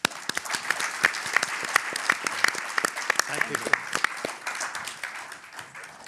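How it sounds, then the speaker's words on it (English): An audience at a Stockholm futures conference gives the panelists a round of applause, dense close clapping with sharp individual claps, while a voice speaks briefly over it. "Give a big round of applause to the panelists."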